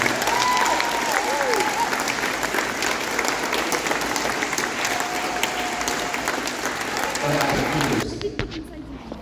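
A high school gymnastics banquet crowd claps loudly and steadily for four-time state champion seniors, with cheering voices mixed in before the clapping drops off sharply near the end.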